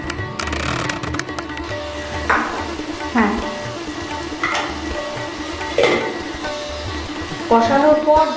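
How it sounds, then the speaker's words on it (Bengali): Jackfruit and prawn masala frying on a low flame, a steady sizzle with occasional stirring scrapes and clinks of a utensil against the pan, fairly close. "সব কিছু লো ফ্লেমে রেখে এবার খুব ভালোভাবে খানিকক্ষণ কষিয়ে নিতে হবে।"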